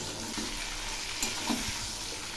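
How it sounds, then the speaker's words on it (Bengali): Rui fish curry with salt, turmeric and slit green chillies is stirred in a pan: a brief, dense hiss of sizzling with a few soft spoon knocks, close and steady throughout. "এখন আমি এগুলি নেড়ে দিচ্ছি"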